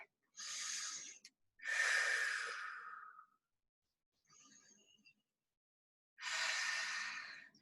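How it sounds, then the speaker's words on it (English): Deep breaths drawn during a middle-splits stretching class in a pike position: a few loud, airy inhales and exhales in separate bursts with pauses between, close to the mic and with no talking. "we're gonna shake our legs back to a pike position and take 2 deep breaths"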